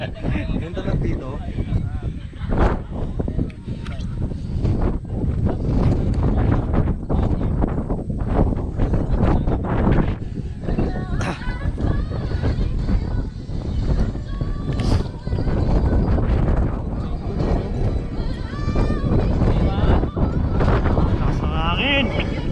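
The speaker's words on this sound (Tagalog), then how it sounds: "Lakas ng hangin." Strong wind roars and buffets the microphone in long heavy gusts, loud and close throughout, with a person talking intermittently over it.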